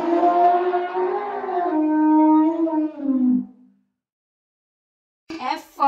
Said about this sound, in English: E for elephant.